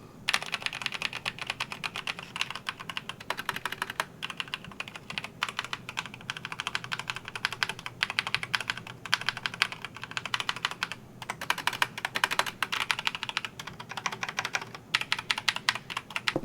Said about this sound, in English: sound test for the brown switch